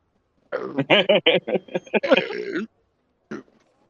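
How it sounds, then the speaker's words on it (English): A short run of guttural, voiced bursts like a drawn-out belch, close and fairly loud, followed by a brief faint sound after a pause. "Oh my god, you actually burped."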